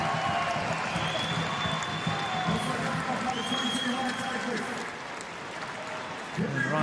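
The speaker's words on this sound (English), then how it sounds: "Listen to the applause for Stefan Mork." Stadium crowd at an A-League football match between Adelaide United and Central Coast Mariners, applauding a substituted player leaving the pitch; steady broad clapping and crowd roar throughout, easing slightly near the end.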